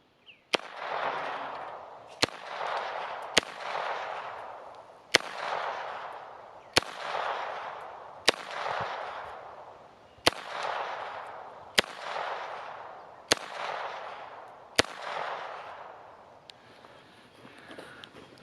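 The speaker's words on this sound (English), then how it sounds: "I was shooting a little bit high on that middle can" Ten sharp gunshots from a Beretta U22 NEOS .22 pistol fired at cans, loud and close, spaced about one to two seconds apart, each cracking then trailing off in a brief outdoor echo.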